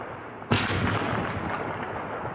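A single distant artillery boom rolls out with a long, decaying rumble and crackle. It comes from heavy clashes between PYD and al-Nusra fighters in Ras al-Ayn, Syria, near the Turkish border.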